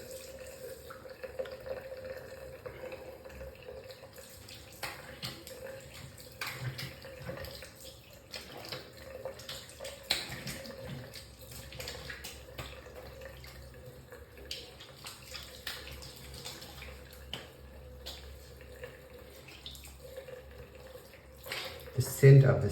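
A tap runs steadily into a sink as a straight razor is rinsed between shaving passes, continuous splashing and trickling up close with a louder surge at the end.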